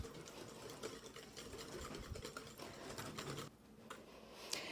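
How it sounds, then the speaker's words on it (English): Close, faint rapid clicking and tapping of a whisk beating sour cream into muffin batter in a bowl, in quick irregular strokes that stop briefly near the end, with no speech. "Whisk that in until it's nice and smooth."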